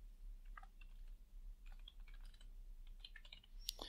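Keys tapped on a computer keyboard while entering a page title in a website builder, a quiet irregular run of light clicks spread across the clip over a low steady hum.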